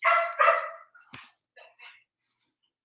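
Hyper pet dogs barking indoors, two loud, close barks up front followed by several quieter yips and whimpers trailing off with short gaps between them.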